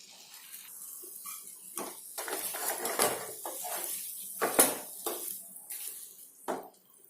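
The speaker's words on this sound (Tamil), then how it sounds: "இப்போ நம்ம பொரிச்சு வச்சுருக்கிற காலிஃப்ளவர் இதில் சேர்த்து நல்லா கலரி விட்டுக்கலாம்." Fried cauliflower tossed into Manchurian gravy in a pan, with a spoon clattering and scraping against the metal in irregular close bursts over a faint simmer.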